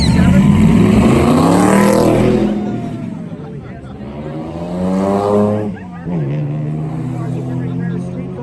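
Vintage race cars, big Chevrolet and Ford Cobra among them, roll by in a parade at Lime Rock, engines rising and falling in several loud passes with pitch sweeping down as each goes by, while a voice talks over them.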